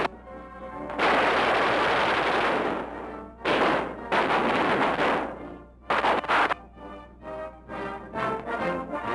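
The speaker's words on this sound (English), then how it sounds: "Manning a .50 caliber gun, he will soon be in action against the enemy." A .50 caliber machine gun fires from a bomber in long, loud, rough bursts broken by short pauses, ending in choppier stuttering volleys, with no voices over it.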